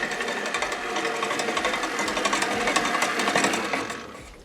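Rapid rhythmic sloshing and thumping of cream being churned into butter in a mixer, a steady mechanical whirring that fades out at the end.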